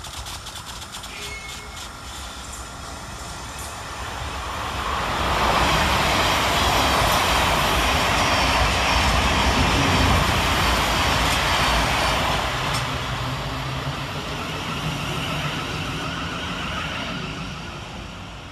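A Govia Thameslink Class 700 train, unit 700149, passes through Salfords station on a Cambridge to Brighton service, a broad rumbling whoosh that swells from a distant approach, peaks for several seconds, then fades away.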